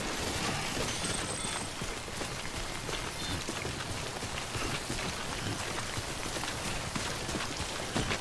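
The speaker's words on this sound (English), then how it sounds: "does it ever stop raining?" Steady rain pours down in the video game Death Stranding, a dense, even patter of drops hitting surfaces that continues without a break at moderate level and with no speech.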